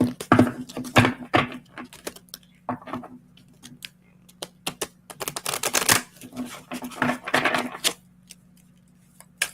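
Oracle cards are shuffled by hand in close, irregular bursts of crisp riffling and flicking, with short pauses between flurries over a faint steady hum.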